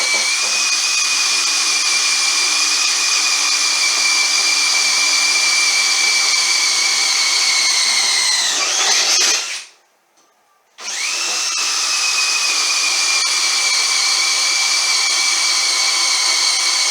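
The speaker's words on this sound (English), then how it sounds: "then I'll line up the rubber and drill some holes" A power drill whines steadily at high pitch, drilling rubber for snowblower impellers, winds down briefly, stops for about a second, then starts again and keeps running.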